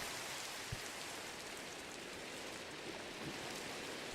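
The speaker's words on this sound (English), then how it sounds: "we can sleep and get rid of the rain" Steady rain falls in Minecraft, a continuous soft hiss of drops with a faint click or two, evenly loud throughout and no voices.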